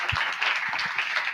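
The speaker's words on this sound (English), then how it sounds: "can I get a round of applause for this amazing panel?" Applause from a conference audience for a panel on cancer care and health inequities, a moderate, even patter of many hands clapping in a large room for a moment.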